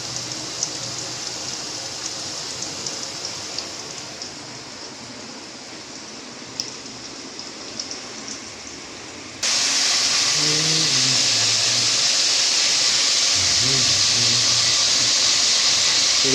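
Potato pieces frying in hot oil for an Odisha-style fish curry, a steady sizzling hiss that jumps sharply louder partway through and stays intense.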